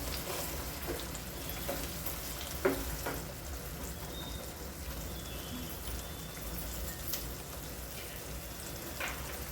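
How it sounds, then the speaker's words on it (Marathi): Sautéing for matar paneer in a pan, faint steady sizzle with a few soft stirring clicks and scrapes, quiet and continuous with no voices. "हे आपण छान परतून घेणार आहोत"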